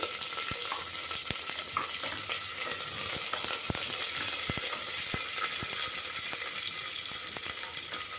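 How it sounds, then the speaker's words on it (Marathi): Curry leaves, peanuts and garlic fry in hot oil, giving a dense, steady sizzle with scattered small crackles and pops throughout, close and fairly loud, with no talking. "कढीपत्ता शेंगदाणे टाकून घेतोय आता परतून घेऊ"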